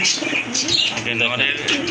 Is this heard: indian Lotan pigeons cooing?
yes